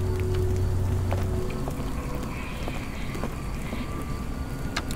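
Steady rain falls in a Sherlock Holmes video game, a dense even hiss with scattered drop ticks, joined early by a low droning hum that fades after the first second.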